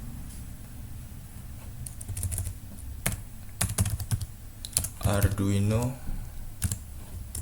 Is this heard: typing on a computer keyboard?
yes